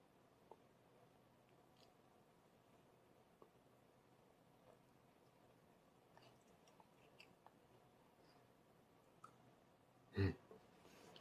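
Someone chews a mouthful of yakisoba noodles in a quiet room, making faint, soft, wet clicks and squishes at an irregular pace, followed by one louder thump near the end.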